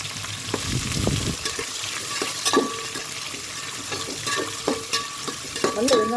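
Onions frying in hot oil with masala for Nagpur-style mutton biryani, with a steady sizzle throughout, stirring scrapes and clatters against the pan, and occasional thuds; no talking.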